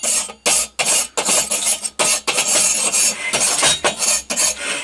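Brushing dust off an old Primus camping stove that sat in a cupboard for decades: brisk, close scratchy bristle strokes in short bursts with brief pauses, no talking.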